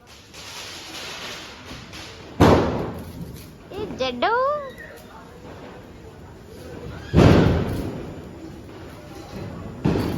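Firecrackers burst outdoors at a celebration: two sharp, loud bangs several seconds apart, each with a short decaying tail, while people talk and call out between them.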